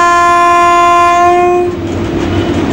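A loud train horn blares for over a second, then cuts off as the rumble and clatter of a passing train continue nearby.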